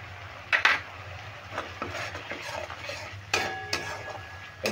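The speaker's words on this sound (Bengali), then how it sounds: "এবার একটু জল দিয়ে আমি মশলাটা খুব ভালো করে কষিয়ে নেব।" A spoon scrapes and clinks in a pan as spice paste with water is stirred and fried, over a soft steady sizzle with a few sharp metallic knocks.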